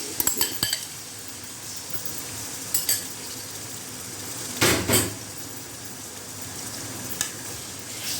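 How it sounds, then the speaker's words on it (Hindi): Marinated chicken goes into hot oil with a soft sizzle. Sharp metal clinks of a utensil against the pan break in several times, and no one speaks. "फिर हम इसमें मैरिनेट हुआ चिकन डाल देंगे"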